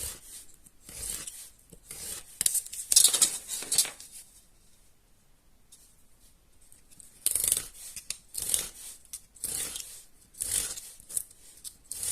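Scissors cutting paper for a homemade house-shaped album, heard as bursts of crisp snipping and rasping paper noise separated by a quiet pause in the middle, close and fairly soft, with no speech.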